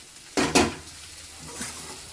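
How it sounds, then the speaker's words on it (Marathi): Okra stir-fry (bhendi bhaji) with crushed peanuts is stirred in a pan: two quick scraping strokes, then a softer third, over a faint background sizzle. "सगळं आता फिरवून घेऊया।"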